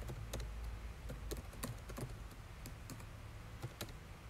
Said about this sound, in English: We can start typing away.